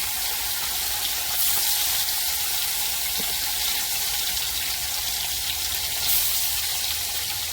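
Fish frying in mustard oil in a pan over a low gas flame gives a steady, dense sizzle with faint crackles throughout, close and even, with no voices.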